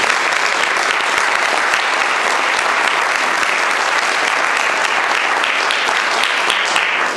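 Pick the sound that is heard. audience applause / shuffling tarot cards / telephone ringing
audience applause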